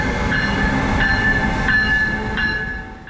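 Amtrak Regional train 88 passes a Metro North local train at South Norwalk station, a loud steady rumble of wheels and rail with sustained tonal squeal and ringing overtones, fading slightly at the end.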